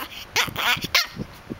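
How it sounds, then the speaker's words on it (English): A two-month-old puppy gives several short, high yips and barks in quick bursts, close by, with a bit of whimpering between them. "why are you barking?"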